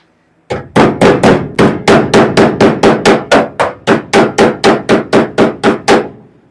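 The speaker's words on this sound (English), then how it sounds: "Oh, need my hammer." Around twenty quick hammer blows ring out on metal bodywork of a 1969 Camaro, sharp and close in a steady, slightly uneven rhythm with no talking.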